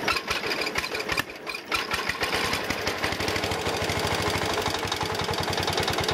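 A tractor engine runs with a little choke, chugging in a steady, fast rhythmic beat with a slight knock, loud and close throughout with no talking.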